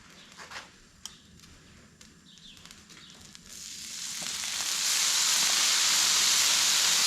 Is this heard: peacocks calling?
no